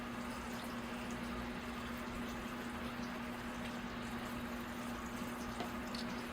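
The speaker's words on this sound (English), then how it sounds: "Let's give them a good water here." Plant pots being watered in a greenhouse, a steady wash of flowing water continuing evenly throughout with a constant low hum beneath it.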